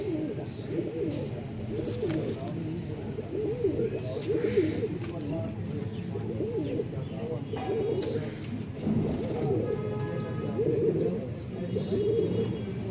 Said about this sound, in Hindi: ये तो बहुत ही लाजवाब कबूतर है